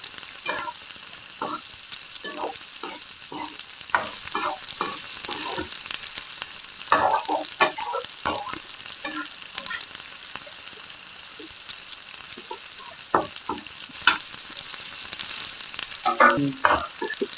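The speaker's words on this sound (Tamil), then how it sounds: "கொஞ்சம் உப்பு போடுறோம் வதங்கட்டும்" Tomatoes sautéing with salt in a pan for a mushroom gravy, giving a steady, close sizzle and frying hiss broken by frequent scrapes and clicks of stirring throughout.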